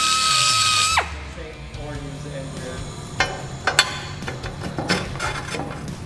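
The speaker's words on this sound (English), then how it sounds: "if you get in there with a die grinder, and maybe a carbide, you can clean that up" A die grinder with a carbide bit whines as it winds down, followed by scraping and clinking as a tube seam on a Sportster hardtail frame kit is cleaned up, close and alone.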